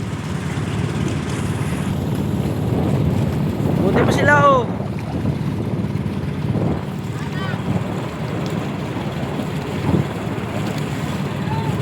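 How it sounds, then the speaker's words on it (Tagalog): Large waves roll around a fishing bangka in a constant roar of water and wind rumble, with a brief voice speaking over the noise near the start. "Lalaki ng alon."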